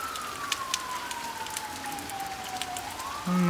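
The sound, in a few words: police car sirens during tornado warning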